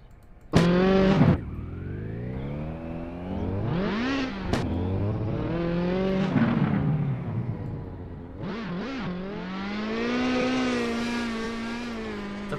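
Volkswagen Polo rally car in the Assetto Corsa racing game, engine revving hard through repeated rising and falling sweeps with sharp gear-change breaks and a sustained high-revving drone, loud and close, no talk.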